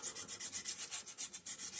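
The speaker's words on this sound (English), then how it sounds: "Now, on this surface, I'm not sanding very hard." Light, rhythmic sanding strokes on an aluminum surface, a soft back-and-forth rasp repeating about eight times a second, close by with no talking.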